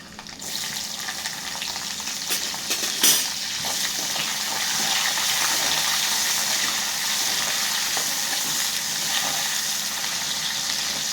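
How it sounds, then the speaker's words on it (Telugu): Peanuts and chopped onion frying in a pan of hot oil make a steady, loud crackling sizzle that holds for the whole stretch, with a brief clatter early on and no talking. "పల్లీలు వేగినాయి కదా, వేగినాక కొంచెం వేగినాక ఉల్లిగడ్డ వేసేయాలి"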